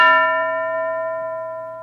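A single bell strikes once, a clear metallic ring with strong tones that decays slowly over about two seconds, alone with no talk.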